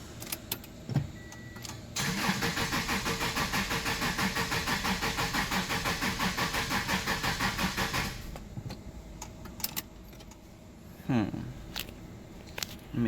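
A Subaru Legacy engine cranks steadily for about six seconds with a rapid, rhythmic starter churn, then stops without catching. Brief clicks and quiet handling noises come before and after.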